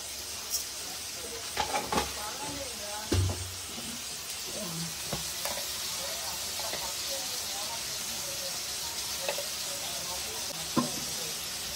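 Fish with salt and turmeric simmers in a pan, giving off a soft, steady hiss. A few scattered clinks and light knocks of cookware rise over the sizzle.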